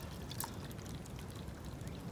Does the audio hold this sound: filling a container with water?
yes